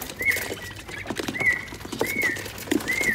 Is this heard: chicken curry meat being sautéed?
no